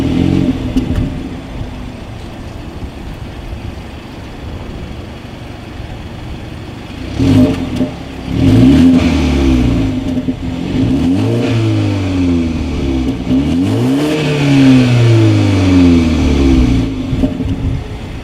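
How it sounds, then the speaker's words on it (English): 2019 BMW 330i with dual exhaust outlets and chrome tips, engine idling and then revved repeatedly, loud rising and falling swells heard close from behind the car. "As always, here is that exhaust clip."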